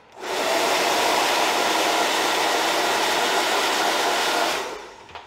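A hair dryer blows loose hairs out of hair clipper blades, a steady loud whooshing roar that rises quickly, holds evenly for several seconds, then cuts off.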